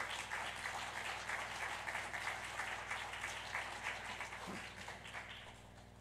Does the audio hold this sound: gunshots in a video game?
no